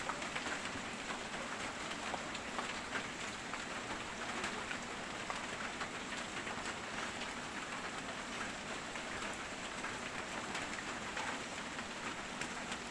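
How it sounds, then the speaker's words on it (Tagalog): Steady rain falling, a continuous soft hiss of drops with no voices, even and unbroken throughout. "umuulan."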